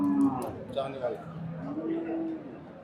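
A cow lows at a cattle market in Hazratpur, a drawn-out low call rising and falling beneath nearby people talking.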